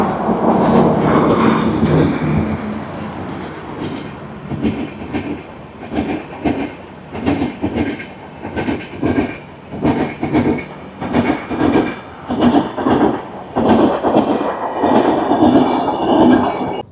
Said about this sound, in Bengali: ওই জন্য এই ট্রেন এত স্লো যাচ্ছে